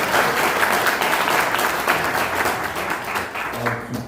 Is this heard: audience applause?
yes